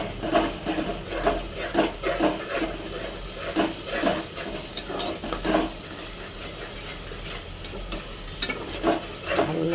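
Salt and whole green chillies are stirred in a frying pan, a spatula scraping and knocking in repeated strokes over a continuous hot sizzle, close and fairly loud.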